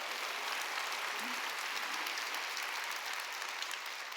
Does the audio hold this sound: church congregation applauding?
yes